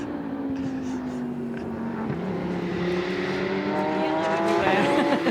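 Bright yellow ARC Bratislava Lamborghini race car during refuelling in the pit lane at a 24-hour race in Barcelona, heard as a steady loud engine drone with slowly shifting tones, plus other race cars passing and a voice commentating over it.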